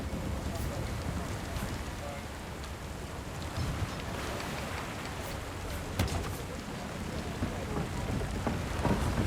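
Steady rain falls in a dark fantasy game world, a dense, even hiss that carries on throughout with a few louder spatters, while a voice talks over it.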